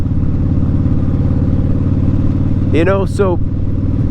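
A lowrider motorcycle engine runs steadily and loud as the throttle is twisted, its low rumble continuous throughout, with a brief voice speaking over it near the end.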